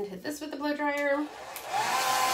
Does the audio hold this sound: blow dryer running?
yes